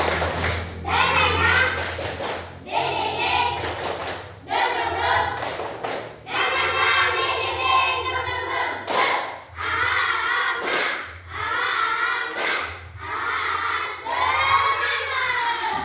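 A group of Indonesian children chant loudly together in rhythm, punctuated by sharp bursts of synchronized clapping at regular intervals.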